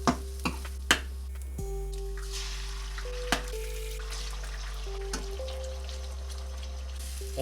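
Egg scrambled in a hot frying pan alongside vegetables for fried rice, with a steady background sizzle, a few sharp utensil clicks against the pan, and a low continuous hum underneath.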